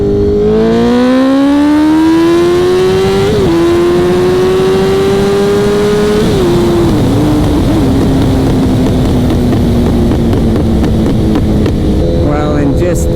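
Liter-class motorcycle accelerating hard through the gears, reaching 140 in third gear: a loud, close engine whose pitch climbs steadily, with shifts where it briefly drops before rising again, sustained for over ten seconds.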